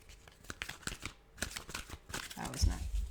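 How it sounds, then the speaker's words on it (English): Quick papery riffles and flicks of tarot cards being shuffled by hand, close up, in short uneven bursts. "That was not good shuffling."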